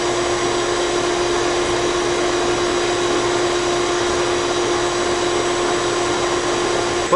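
A shop vacuum drones steadily while pulling wire through a SIPS wall, a loud, unbroken whine with a constant tonal hum, close and alone for the whole stretch.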